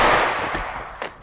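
Rapid bursts of 5.56 rifle fire hammer a stone statue in the VR shooter H3VR, a loud clattering volley with broadband impact crackle, then a couple of sharper hits near the end.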